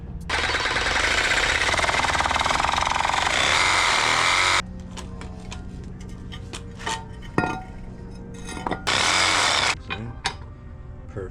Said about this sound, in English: we're gonna grab the Sawzall now and start with this big old guy